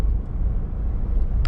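A car driving, heard from inside as a low steady road rumble with a faint whoosh of passing traffic, loud and continuous, with no talking.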